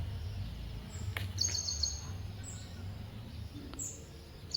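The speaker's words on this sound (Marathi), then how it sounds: "पक्षी गेला बघा." Birds call outdoors on a morning lane lined with trees, giving a few brief, high chirps spaced a couple of seconds apart over a steady low background rumble.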